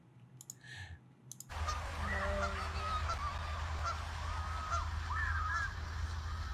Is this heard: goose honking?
yes